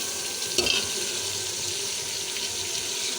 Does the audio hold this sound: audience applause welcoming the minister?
no